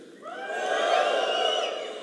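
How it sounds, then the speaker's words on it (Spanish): A crowd lets out a sustained collective shout, swelling quickly and holding loud for about two seconds before easing slightly. "den un grito los solteros"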